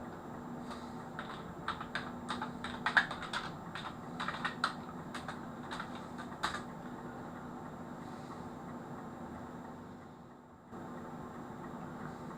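Quick bursts of key presses on a computer keyboard as a search is typed into Google, close and fairly quiet, clattering unevenly for about six seconds before falling silent over a low steady room hum.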